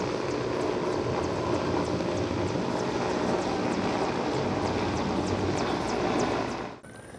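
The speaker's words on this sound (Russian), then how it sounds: "Ми-26 за несколько секунд скинул десятки тонн воды, имитуючи тушение лесного пожара" A Mi-26 helicopter releases tens of tons of water over a lake during a rescue-service show that simulates fighting a forest fire. It makes a loud, steady rushing roar with a fast rotor flutter, then drops off abruptly at the end.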